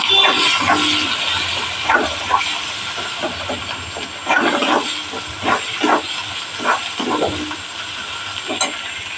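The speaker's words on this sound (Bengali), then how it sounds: "আমি সব একসাথে মশলাটা দিয়ে দিলাম। এবার এটা আমি কষাবো।" Ground spices sizzling and hissing in hot oil in a pan for a pointed gourd curry, steady bright frying hiss with scattered crackles and stirring scrapes, no talking.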